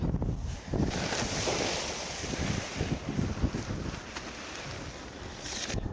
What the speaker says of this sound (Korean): 오늘도 바람이 좀 불지만